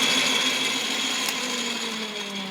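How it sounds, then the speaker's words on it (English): An old belt-driven drilling machine runs with its power feed engaged, drilling down into a workpiece, giving a steady mechanical whir with a gently falling pitch that continues unbroken and close by. "it's got a long throw, and it's got this power feed. That's feeding, turning that. So that's actually drilling down."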